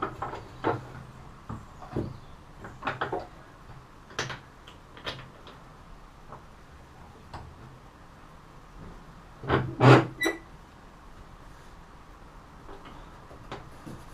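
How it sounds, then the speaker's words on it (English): Wooden candle holder clamped in a bench vise, a series of sparse ticks and small knocks as the handle turns, then a louder cluster of wooden clunks as the jaws tighten, close and quiet. "So I'm just going to put it in my vise."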